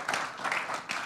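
A church congregation applauds during a Spanish-language Christian service, a short, steady burst of many hands clapping at moderate level with no voices standing out.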